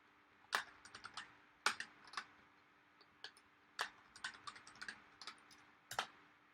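Computer keyboard keys being typed as a new password is entered, quick clusters of crisp clicks with short pauses between bursts, close and fairly quiet with no talking.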